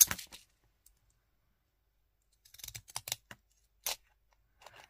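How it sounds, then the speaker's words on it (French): Pinking shears snipping through a clear laminating plastic sheet, sharp crisp cuts in a few separate bursts with silence between, close and fairly quiet. "avec un ciseau cranteur, je vais venir faire des crans comme les petits sachets"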